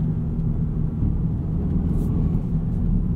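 A 2024 Aston Martin DBX 707 in Sport Plus mode, heard from inside the cabin as a steady, loud, deep engine rumble, with no distinct shift blips standing out.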